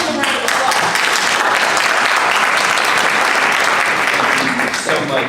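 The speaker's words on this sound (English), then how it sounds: "Give him a round of applause." Dense, sustained audience applause fills a conference panel hall at the Congressional Black Caucus Annual Legislative Conference, loud and continuous for several seconds before easing slightly.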